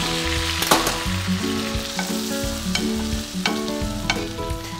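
A steak sizzles steadily with butter in a hot pan for a steak dish with bo luc lac sauce, frying loud and continuous with a few sharper spatters and crackles, with no talk.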